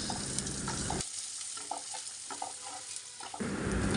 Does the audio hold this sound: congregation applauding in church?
no